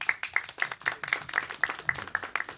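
An audience at a Telugu film event for Mahendragiri Varahi claps in a steady, rhythmic beat, with sharp, evenly spaced claps repeating about four times a second.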